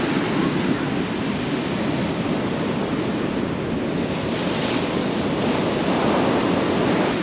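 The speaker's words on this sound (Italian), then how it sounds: "quando ci sono le onde, soprattutto di queste dimensioni, è sempre tanto tanto affascinante il mare" Large ocean waves break and roar continuously onto a beach at Punta del Diablo, Uruguay, a dense, loud wash of surf mixed with wind buffeting, with no voices.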